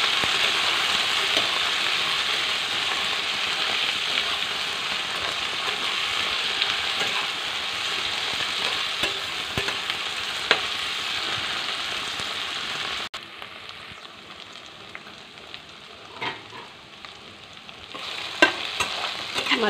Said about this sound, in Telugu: వీటిని మధ్య మధ్యలో కలుపుకుంటూ వేయించుకున్నాను.